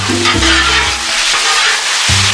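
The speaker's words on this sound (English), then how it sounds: "We're just finishing up some stir fry here." Stir fry sizzles on a Blackstone flat-top griddle with sesame teriyaki sauce, a loud steady hiss running throughout with low scraping and stirring thumps, no talk.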